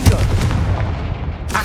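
Confringo fire spell bursting in the video game Hogwarts Legacy, a loud, close blast with a rumbling boom that sustains through the clip and a second burst near the end.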